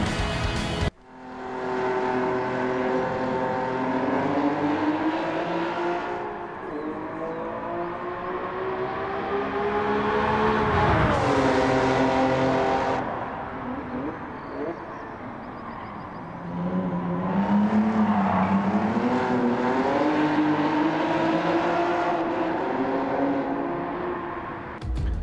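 A Toyota Supra races around a track at Autopolis in Gran Turismo 7 during a National A license test, its engine howling loudly and steadily with rising and falling revs as it shifts through the gears.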